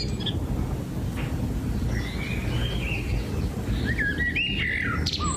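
A bird sings a bright, warbling phrase of rising and falling whistled notes resembling a pop song over a steady background hiss, the melody repeating like a tune.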